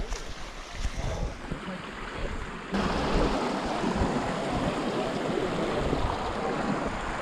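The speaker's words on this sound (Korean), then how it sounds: "저쪽으로 폭포가 떨어지는 것 같은데" Rushing water from Tenaja Falls and its stream makes a steady broadband roar that grows noticeably louder partway through, with no voices.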